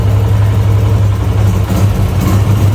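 Yamaha YBR125 motorcycle with a freshly tuned butterfly carburetor idling at steady rpm, a loud close low throb that holds constant with only a slight wobble in pitch, no talking.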